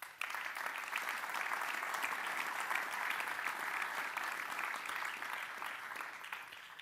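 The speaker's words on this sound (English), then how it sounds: "I think we should reward this memorandum with a big round of applause." A big round of applause from the audience at a memorandum signing during a handball Champions League event, with steady, dense clapping throughout.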